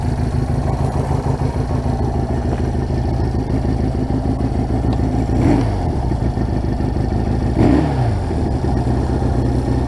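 A Honda CL175 motorcycle engine drones loudly and steadily on a speed run, its even throb rising in two clear revving surges as the bike shifts through gears, with no talking.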